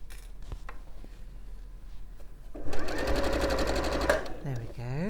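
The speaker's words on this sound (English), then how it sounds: "And we can sew across the strap." A sewing machine stitches across a dress strap, a close, steady rapid whir running for about one and a half seconds after quiet handling, followed by a soft voice.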